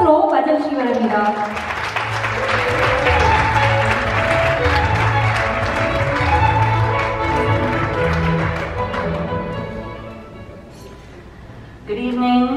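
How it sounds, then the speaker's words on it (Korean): An audience at a Korean politicians' forum in Seoul welcomes the opening speaker with applause, a broad patter of clapping under music that fades before a voice starts at the end. "여러분 큰 박수로 맞아주시기 바랍니다"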